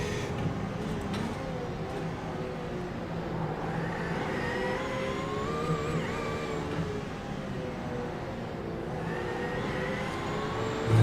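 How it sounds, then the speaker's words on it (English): Prototype race cars in iRacing at Sebring pass by, their engine whine rising and falling against a steady drone of in-car engine noise, loud and continuous with shifting pitch. "Prototypes passing by on the left here."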